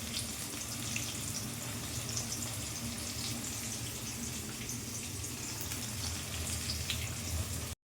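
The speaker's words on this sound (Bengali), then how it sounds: "এবারে আলু ভাজা হচ্ছে" Quiet, steady sizzling of food frying in oil, a continuous hiss with soft crackles and no voices.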